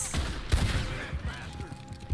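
Gunfire in Red Dead Online cracks out in several sharp shots at uneven intervals, one especially loud, amid a busy rumbling backdrop.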